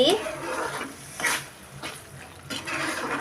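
Spoon stirring dry red chilli powder and spices into a homemade tomato pickle in a pan, with soft scraping strokes and faint sizzle of oil, a few brighter clinks against the vessel.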